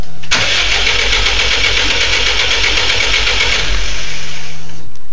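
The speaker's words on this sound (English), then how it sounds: "engine is about to start" A Subaru WRX GC8 engine cranks steadily for about four seconds without catching, a loud, continuous starter whir with a low rumble that stops abruptly and fails to start.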